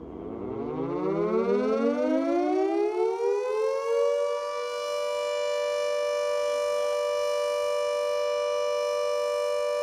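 A World War II air raid siren sounds the all clear: a loud wail climbs steeply over the first few seconds, then holds a long, steady, unwavering tone to the end, with no voices.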